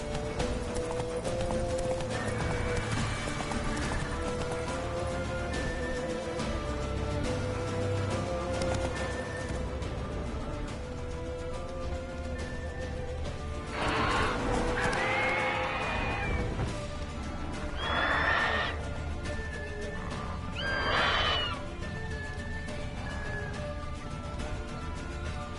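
Roach the horse gallops in The Witcher 3, rapid hoofbeats drumming steadily throughout, with a couple of loud neighs and whinnies breaking through midway over busy game background sound.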